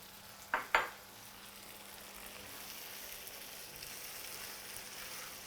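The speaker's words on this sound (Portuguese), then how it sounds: "E deixamos agora refogar aqui os camarões um pouco, não muito" Shrimp sauté in a pan with seafood cream: two sharp utensil clinks open, followed by a soft, steady sizzle that continues quietly to the end.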